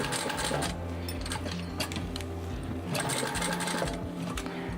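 A domestic sewing machine runs steadily through a long top stitching seam on a floral dinosaur water bottle bag, its rapid needle chatter continuous and close for the whole stretch with no talking.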